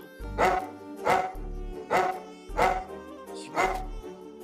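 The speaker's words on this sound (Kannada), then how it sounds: "ಇವನು ಯಾಕೆ ಬೊಗಳುತ್ತಾ ಇದ್ದಾನಲ್ಲ?" A pet dog inside a house in a Kannada TV serial scene barks five times in an even rhythm. Each bark is short, full and close by, with brief quiet gaps between them.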